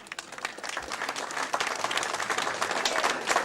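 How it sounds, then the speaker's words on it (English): A crowd applauds for the Longford Pipe Band at the reopening of a GAA grounds, with steady dense clapping that builds slightly and holds for a few seconds, no talk over it. "put your hands together now for a big round of applause for Longford Pipe Band"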